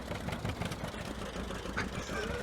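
An old John Deere tractor engine idles with a low, steady rumble at moderate distance, fairly quiet and unchanging throughout.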